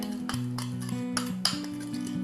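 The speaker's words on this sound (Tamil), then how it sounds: "இப்போ நான் லெமன் எல்லோ எடுத்துருக்கிறேன், இதோட கொஞ்சம் பிளாக் கலர் மிக்ஸ் பண்ணுறேன்" Black fabric paint stirred into lemon yellow paint, a series of light metallic clinks and taps of a tool against a small container, repeating unevenly at close range.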